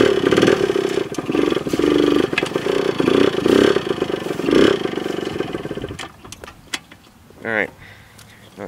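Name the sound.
motorcycle ridden around a dirt track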